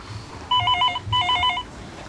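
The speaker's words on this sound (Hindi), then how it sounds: "फोन क्यों नहीं उठा रहे हो?" An electronic telephone ringing in two short trilling bursts separated by a brief pause, close and clear over a quiet room.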